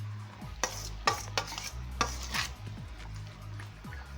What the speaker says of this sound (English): just continue mixing until you've incorporated everything